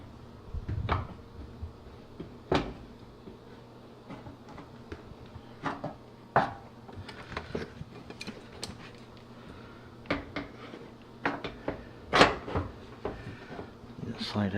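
Knocks, clunks and light rattles come from fitting the front door panel onto a GE dryer, irregular and close, with sharper thumps here and there against a quiet background hum.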